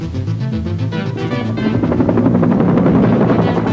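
Steady, loud thumping rotor beat of a military helicopter with a heavy engine drone, growing slightly louder toward the end, no voices.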